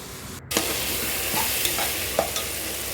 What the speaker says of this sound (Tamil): இதோட தக்காளியோடு சேர்த்து இஞ்சி, பூண்டு விழுதையும் சேர்த்து வதக்கிக்கோங்க